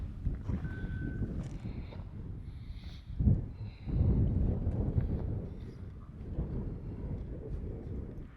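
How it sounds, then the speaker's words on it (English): Strong wind buffeting a microphone outdoors at the Grand Canyon, a continuous loud rumbling roar with gusts that swell and fade, no voices. "It is so windy"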